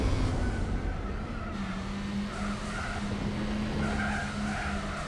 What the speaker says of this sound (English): listen to that engine, people. That sounds horrible.